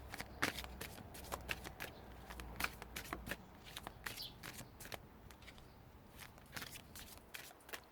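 Tarot cards shuffled and drawn during a reading, a run of crisp riffling flicks and slaps, close and fairly soft, clustered in bursts with brief pauses between them.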